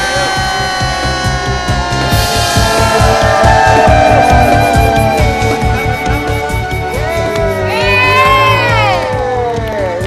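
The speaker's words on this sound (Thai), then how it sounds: "ขอปรบมือดังๆให้อีกครั้งหนึ่งนะคะกับคณะเชฟทีมชาติไทยนะคะ" Large audience cheers and shouts loudly, with dense crowd noise throughout, celebrating the Thai national chef team after a culinary competition win; voices carry over a steady roar.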